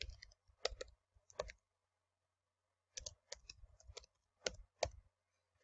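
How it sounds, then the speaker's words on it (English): Keystrokes on a computer keyboard as a player name and details are entered for a Strat-O-Matic player picture, coming in short bursts of quiet, close clicks separated by pauses. "You're gonna type his name."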